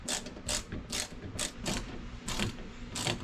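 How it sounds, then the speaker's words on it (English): A small hand screwdriver drives self-tapping screws into a wall-mounted rod rack, giving soft rhythmic ratcheting clicks in regular bursts about every half second, close and quiet. "just using these self-tapping screws and then just a small screwdriver to put them in"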